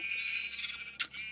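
A Minecraft sheep bleats in a wool farm, giving one drawn-out, nasal bleat and then a short second call, close and fairly loud with no voices.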